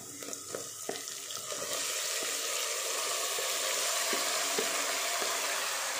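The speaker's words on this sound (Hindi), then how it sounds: "अब ये चिकन डालेंगे।" Chicken pieces drop into hot oil spiced with red chilli powder for a curry gravy, a few splashing clicks giving way to a steady, loud sizzle and frying hiss that continues to the end.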